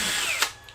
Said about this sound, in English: take your drill, and go ahead